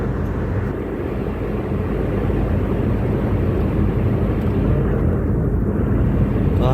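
A steady, loud low roar of a passenger airplane passing overhead, a continuous rumble filling the whole stretch with no voices.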